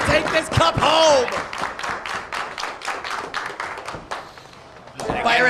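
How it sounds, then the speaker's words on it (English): A wrestling crowd at a CHIKARA event claps in quick, irregular bursts, with a ringside commentator talking over the noise. "Listen to this crowd. They want to see Firehead take this cup home"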